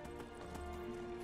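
Horse hooves clip-clopping in the video game Skyrim, a quiet, steady run of hoofbeats over low game ambience.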